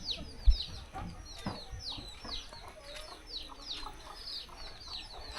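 Hens clucking steadily in a Dak Kang tribal village, several birds close by with repeated sharp calls over soft outdoor ambience and a brief thump near the start; no one speaks.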